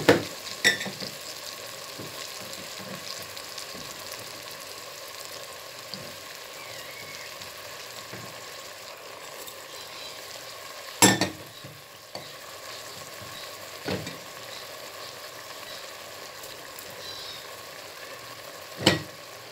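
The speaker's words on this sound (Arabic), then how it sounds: "صافي وغادي نخليهم حتى يتقلاو مزيان ومراقو" Food fries in a pan with fenugreek added, giving a continuous close sizzle and crackle, broken by a few sharp clatters of stirring or utensil knocks.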